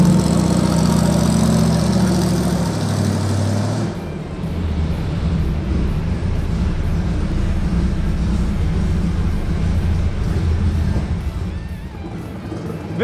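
A 1974 Chevrolet K5 Blazer 4x4 rumbles steadily at idle, a loud, close, deep engine drone that shifts in tone after a few seconds and then holds an even throb, with no talking.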